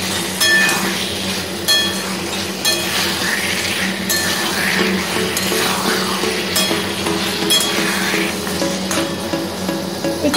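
Chicken curry is stirred from the bottom up in a pot, a loud bubbling sizzle with repeated metallic spoon clinks against the pot at irregular intervals.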